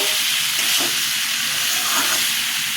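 Potato and papaya dalna sautéing in a pan, a steady, loud close sizzle with soft stirring scrapes throughout and no voices.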